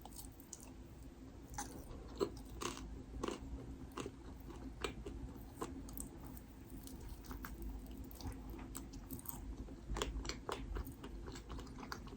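Soft, close bites and chewing of a sweet-potato-topped bread crust, repeated irregular crunchy mouth sounds at low volume with no talking.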